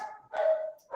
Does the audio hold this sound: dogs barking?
yes